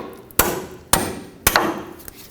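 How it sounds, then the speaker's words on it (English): Three sharp metallic hammer blows strike a wrench on a rusted 14mm shock nut of a 2003-2021 Chevrolet Express, spaced about half a second apart, each ringing briefly before decaying, close and loud. "I'm going to use a hammer on my wrench."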